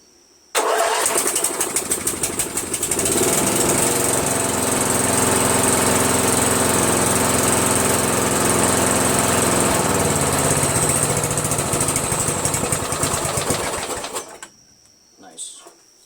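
A repowered Craftsman LT2000 lawn tractor engine cranks and catches, then runs loud and close at a steady roar for about fourteen seconds before cutting off into quiet.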